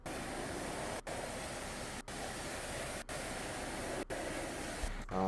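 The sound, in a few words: fire hose water spray in video game EmergeNYC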